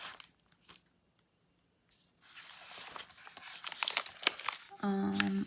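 Crinkly plastic packaging around planner supplies being unwrapped by hand. A few soft rustles come first, then a busy stretch of close crackling and tearing.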